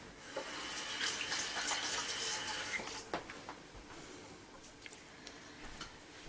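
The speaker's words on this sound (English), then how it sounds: "I'm just going to wash my hands." Tap water runs steadily into a sink as hands are washed in a home kitchen, a continuous hiss for about three seconds that then breaks into lighter splashes and drips.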